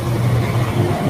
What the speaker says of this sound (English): It looks like a very loud truck went by